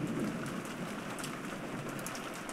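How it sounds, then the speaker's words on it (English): Heavy rain sound effect from the Umineko visual novel, a dense steady hiss of downpour with pattering drops on surfaces, constant and fairly loud with no talking. "It was raining hard outside"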